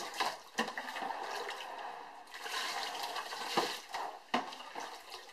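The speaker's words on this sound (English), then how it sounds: "I'm going to pour it around all the sides of this container" Sanitizing solution poured around the sides of a homebrew beer kit container, a quiet continuous splashing and trickling of liquid with brief louder sloshes as the container is turned.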